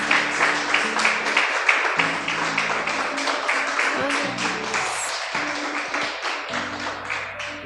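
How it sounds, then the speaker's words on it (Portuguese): A church congregation applauding during a worship service: dense, sustained clapping from many hands, loud and close, with musical tones sustained beneath it and no clear speech. "Quem crê nessa palavra, aplauda ao Senhor então por isso"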